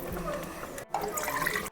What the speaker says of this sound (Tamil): எல்லா தண்ணியில் மிக்ஸ் பண்ணி திருப்பி நம்ம ஊற்றணும்.